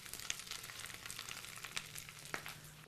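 Greens sautéing in olive oil in a pan, a soft steady sizzle with a few sharper crackles and pops, fairly quiet and heard alone without talk.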